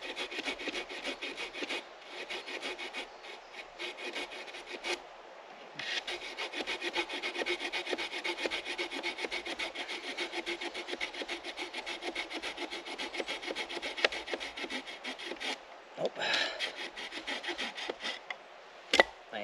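A multi-tool saw cuts through wood outdoors, a continuous close buzzing rasp that runs for most of twenty seconds, with a couple of brief pauses and a few scraping bumps near the end, and no voices.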